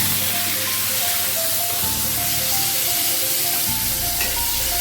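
Cut potatoes frying in hot oil with bay leaf and cumin, a loud continuous sizzle and hiss that holds steady throughout, with no talking.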